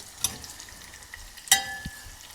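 Garlic, ginger, red chillies, mustard seeds and cumin frying in hot oil for a Telugu tadka for tomato dal. Faint, quiet sizzle with a couple of sharp crackles and pops, no talking.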